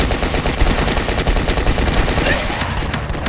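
Sustained automatic fire from a gun in the zombie shooter Last Stand 2, a loud continuous rattle of rapid shots lasting a few seconds, layered over other game noise with some talk underneath.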